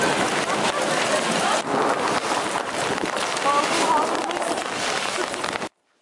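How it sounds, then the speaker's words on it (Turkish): Hazelnut-sized hail falling on the streets of Edirne during a sudden evening storm, a loud, dense, continuous patter of hailstones that runs unbroken, then stops abruptly just before the end. "Edirne'de akşam saatlerinde aniden başlayan fındık büyüklüğündeki dolu yağışı kentin beyaza bürünmesine yetti."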